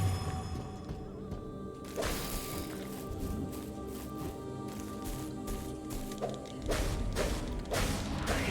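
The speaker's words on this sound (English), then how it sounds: "The explosion that comes out of the heart is pretty intense." Explosions and crashing blasts burst from a heart-shaped boss in the metal-themed action game Valfaris, with a big hit near two seconds and another near seven, over a dense, noisy bed of game combat.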